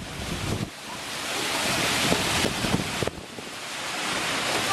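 Surf rolling onto a Queensland beach, a steady loud wash of breaking ocean waves with gusty wind buffeting the microphone and a couple of sharper surges.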